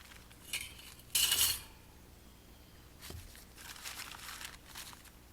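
Wax paper being handled and crinkled while a campfire is laid with small sticks for heating a WW2 German iron ration, with a loud burst of crackling rustle followed by softer scattered crinkles and a brief thump.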